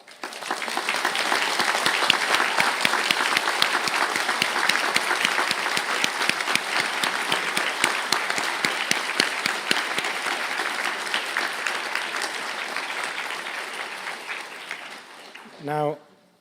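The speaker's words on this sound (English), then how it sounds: "please stand for a round of applause" Sustained applause from a graduation ceremony audience as graduates stand, steady and full for about fifteen seconds before fading, with a brief voice near the end.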